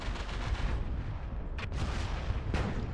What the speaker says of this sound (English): I got his back with rockets.